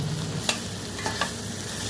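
Spices frying in a home kitchen pan with salt, chili powder and coriander powder, a steady low sizzle under a few sharp scrapes of a spoon stirring, close and moderately loud.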